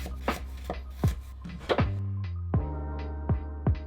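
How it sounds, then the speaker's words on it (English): Knife slicing through a piece of fresh ginger on a cutting board, a series of sharp chopping thuds at an uneven pace, close and clear over a low steady hum with no talking. "Now you're gonna take a piece of ginger, slice it, and put it in the food processor as well."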